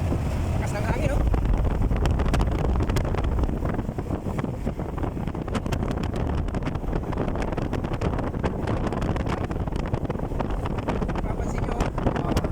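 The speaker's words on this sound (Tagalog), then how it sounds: "Lakas ng hangin, oh." Strong wind buffets the microphone on a moving vehicle, a continuous heavy rumbling roar with gusty crackle that persists throughout and covers everything else.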